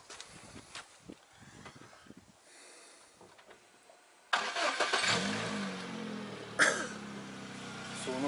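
A car engine cranks and catches after a stretch of faint rustling and distant sounds, then idles and revs briefly up close, with a sharp clunk toward the end.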